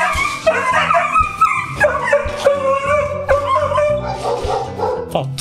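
A dog yips, whimpers and barks in short bursts over a busy, loud background of other noise.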